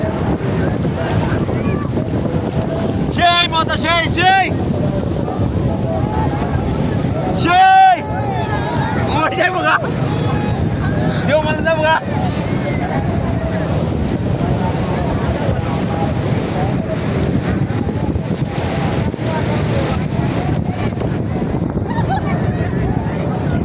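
Rough open sea heard from aboard a boat, with waves crashing and wind roaring steadily into the microphone throughout, and a voice speaking briefly over the din.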